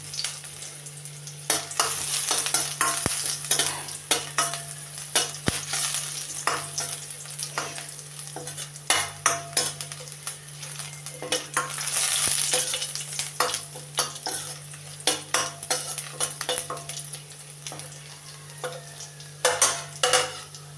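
Curry leaves and two dried red chillies sizzle and crackle in hot oil for pumpkin curry, with frequent spoon stirs and scrapes against the pan throughout, close and without speech.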